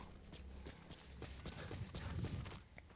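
Horse hooves clip-clopping in Metal Gear Solid V: The Phantom Pain, a steady rhythmic trot of faint, soft beats against low outdoor game ambience.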